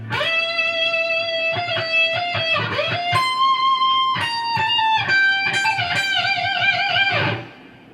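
Distorted electric guitar plays a fast lead phrase from a song's solo, with sustained bent notes, wild vibrato and quick runs, loud and alone for about seven seconds before cutting off.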